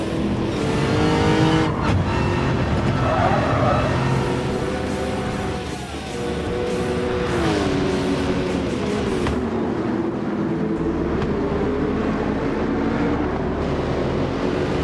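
Race car engine on the Suzuka circuit in the Gran Turismo VR video game, a loud continuous drone that climbs and dips with gear changes and acceleration, close and sustained throughout.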